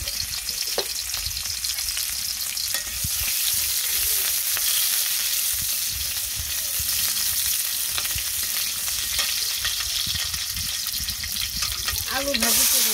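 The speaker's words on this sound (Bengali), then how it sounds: "আলু ভাজি করে দিলাম" Potatoes with onion and green chili fry loudly in a pan in a home kitchen, a dense continuous sizzle with occasional stirring scrapes and a brief clatter near the end.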